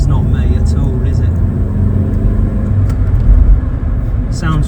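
A car engine hums steadily while driving, a dense low rumble with road noise filling the whole stretch, fairly loud and close, with brief faint vocal sounds near the end.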